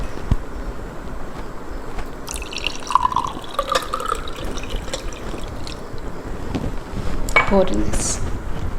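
Lemon honey water trickles and drips into a glass in a soft, close, uneven pour, with faint background noise and a brief clink near the end.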